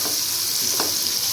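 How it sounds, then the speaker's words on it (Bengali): Capsicum stir-fries in a pan for mixed fried rice, a loud steady sizzle with a quick scrape of stirring partway through. "দিয়ে আমি আবারও এটাকে একটু নাড়াচাড়া করে ভেজে নেব"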